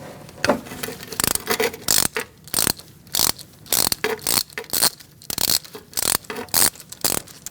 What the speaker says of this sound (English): Using a 10mm and an extension, I'm going to take out this bolt for the ABS sensor.